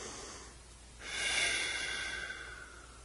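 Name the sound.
deep breath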